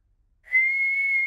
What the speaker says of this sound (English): George can whistle.